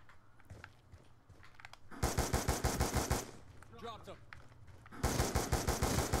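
Gunfire in the video game Black Ops 2, loud rapid automatic bursts in two main volleys separated by a short pause, with faint game sounds and a brief voice between them.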